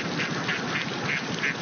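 A flock of ducks crossing a road toward a river, quacking repeatedly in a steady, overlapping chorus over a constant outdoor background, fairly close and clear.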